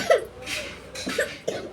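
Several short, rough coughs come one after another, close by and fairly loud, with no talking.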